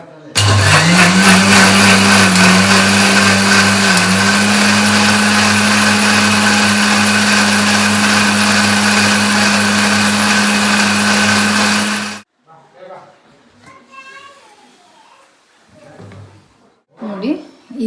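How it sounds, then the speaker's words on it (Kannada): A blender whirs up and holds a steady loud motor drone for about twelve seconds while grinding cream into butter, then stops, followed by quiet handling sounds. "ಸೊ ಈಗ ಗ್ರೈಂಡ್ ಮಾಡ್ಕೊಳ್ಳೋಣ"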